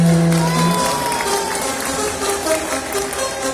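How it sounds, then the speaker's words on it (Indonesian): A crowd at the Ocean Dream Samudra Ancol sea lion show applauds and cheers, dense, loud continuous clapping filling the short stretch with music tones running underneath. "sekarang kita berikan tepuk tangan lagi yang terakhir untuk brand-brand ini"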